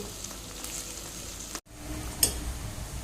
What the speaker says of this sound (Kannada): ಇದನ್ನು ಇವಾಗ ಚೆನ್ನಾಗಿ ಫ್ರೈ ಮಾಡಿಕೊಳ್ಬೇಕು